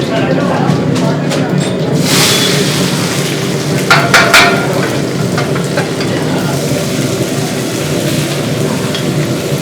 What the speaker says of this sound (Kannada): ಈರುಳ್ಳಿ ಎಣ್ಣೆಯಲ್ಲಿ ಚೆನ್ನಾಗಿ ಬಾಡಲಿ.